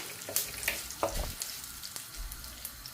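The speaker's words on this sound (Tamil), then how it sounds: "இந்த சலசலப்பு சத்தம் கேட்க வேணும் கருவேப்பமில பொரிஞ்சு" Curry leaves crackle and sizzle in hot oil, with sharp little pops scattered over a soft frying hiss, close and fairly quiet.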